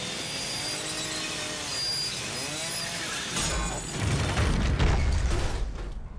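A zombie's chainsaw in The Evil Within on PS5, a buzzing motor drone that swells into a louder, rougher roar near the end, heard close and without talk.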